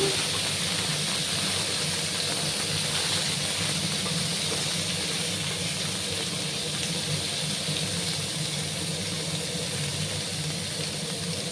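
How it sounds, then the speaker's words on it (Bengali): Cucumbers fry in a pan with turmeric, giving a continuous, moderately loud sizzle and hiss that stays even for about eleven seconds with no one talking. "ভালো করে আমি শসাগুলোকে একটু ভাজবো।"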